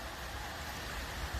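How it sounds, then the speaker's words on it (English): Steady broadband rush of outdoor weather as strong wind sweeps through trees and rain begins, a continuous near-constant roar without distinct drops or voices. "Now it seems like rain"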